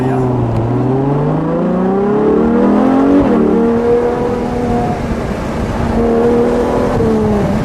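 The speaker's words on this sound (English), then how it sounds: "Beautiful sound of a V12 with the top down." A 2021 Ferrari 812 GTS with its 6.5-liter V12 revs loud and close with the top down, the pitch climbing and falling through several blips and then settling to a smooth idle-like drone.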